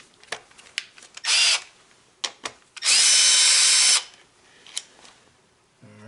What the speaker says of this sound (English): step one says to remove this screw right here